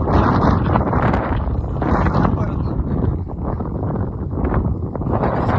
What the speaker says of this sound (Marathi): वारा ढकलते कसलं बघ